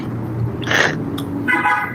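Two short car horn honks, one early and one near the end, over a steady low rumble of traffic.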